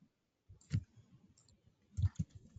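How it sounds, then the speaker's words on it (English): A few soft, sparse clicks of a computer keyboard as a command is typed, faint and close, with quiet gaps between the keystrokes and no voice. "I'll just type a command."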